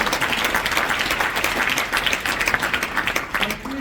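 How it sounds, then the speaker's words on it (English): Steady applause from an audience at a business association gathering, dense overlapping claps holding at a fairly even level throughout with no voices breaking through. "A round of applause to my"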